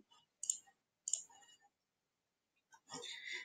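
Computer mouse clicking, a few crisp close clicks separated by silences, then a brief burst of soft rustling noise.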